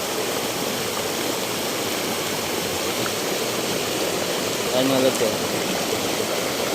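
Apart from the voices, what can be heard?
flowing river water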